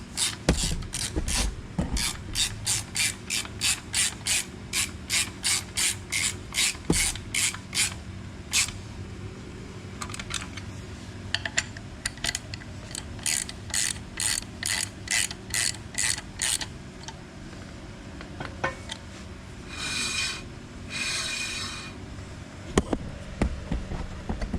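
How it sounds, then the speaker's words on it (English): A Willys front disc brake rotor spun by hand after a disc brake conversion gives a rapid, rhythmic metallic clicking and ticking, close and fairly quiet, in bursts with brief pauses and no talking. "I'm just, you know, making sure the rotor spins freely"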